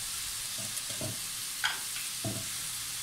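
Creamy chicken and mushrooms seasoned with salt, pepper and seasoning are stirred in a pan, a soft sizzle running throughout under a few quiet scraping strokes, close by.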